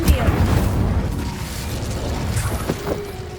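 Incendio fire spell cast in Hogwarts Legacy: a dull boom with crackling burst and rumble, followed by a few small clicking and popping sounds, fairly loud and up close.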